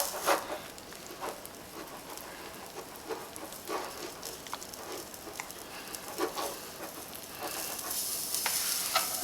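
Grated cheese, Gouda among it, is stirred into a thick, bubbling roux for Pecos Bill nachos, giving a soft steady crackle and sizzle with repeated scraping strokes of the spoon, close and fairly quiet, with no talking.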